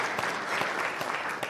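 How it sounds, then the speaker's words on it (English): Audience applause at a cybersecurity event in Phoenix, a dense, steady patter of many hands clapping at an even level throughout, with no voices over it. "Let's actually give a round of applause for Kim, for the FutureCon staff"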